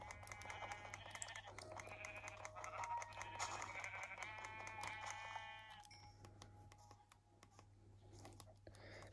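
Sheep bleating in Minecraft survival play: several wavering bleats close by in the first half, then quieter with a few clicks and taps under a low steady hum.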